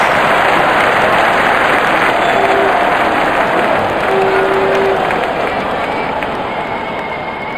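A packed IPL cricket stadium crowd at a Royal Challengers Bangalore versus Chennai Super Kings match cheers a six: a continuous, loud, roaring wall of noise with faint whistles above it, holding steady throughout.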